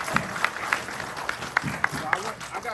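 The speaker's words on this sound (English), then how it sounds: "Round of applause for that, man." Brief scattered clapping from a small group at a jiu-jitsu gym brown belt promotion, sharp claps spaced out over a few seconds, fairly faint against the room.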